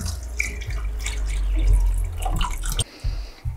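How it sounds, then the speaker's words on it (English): Water is poured into a natural tannin dye bath, making a close, steady splashing and trickling sound for a few seconds, with a few drips and clinks after it. "Might add a bit of water to that actually."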